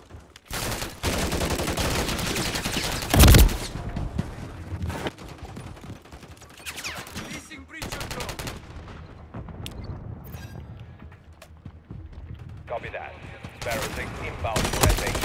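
Video game gunfire and explosions crackle in dense bursts, with heavy booms and rapid automatic fire, some quieter gaps, and occasional voices mixed in.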